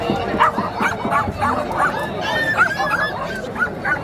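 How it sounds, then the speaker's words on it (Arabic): Malinois puppies at a bustling animal market yip, whimper and bark in quick overlapping bursts, close by, with market chatter and voices running underneath. "جراء كلب المالينو"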